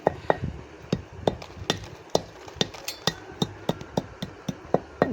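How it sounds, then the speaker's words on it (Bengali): A soaked brick being pounded by hand into pigeon grit: sharp, close thuds land about three times a second in a steady rhythm, with no talk. "গ্রিটের সব থেকে প্রয়োজনীয় জিনিস হচ্ছে এই ইট ইটকে এইভাবে ঠুকে ঠুকে"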